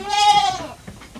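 A goat gives one loud, close, wavering bleat, and faint farmyard shuffling follows, with no talking.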